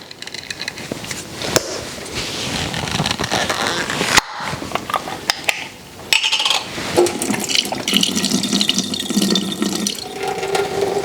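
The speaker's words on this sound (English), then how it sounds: "I am going to drain the juice off of the mushrooms." Mushroom juice being drained from a can or container, heard as splashing, trickling liquid with clinks and a short pause midway, close and fairly loud with no talking.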